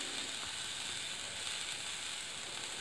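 Cluster beans sauté in a pan with a soft, steady sizzle and hiss, continuous and fairly quiet, with no voices over it.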